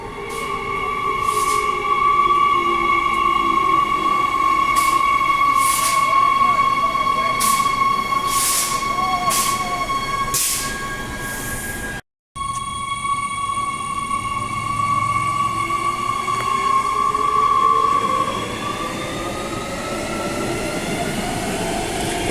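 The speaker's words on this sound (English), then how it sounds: "This here is the last in-service train before the Midland and Airport Line Shutdown 2024 begins." The last outbound in-service train on the Midland line at Bayswater Station, platform 2, rumbles past loud and near, with a steady high whine and rhythmic wheel clatter. It cuts briefly to silence midway, then carries on with a long squeal fading out.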